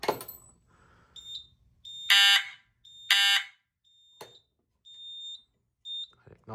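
Fire alarm panel sounding during a smoke detector walk test in zone 2: two loud harmonic horn blasts stand out among repeated thin, high electronic beeps and chirps, with quiet gaps between them.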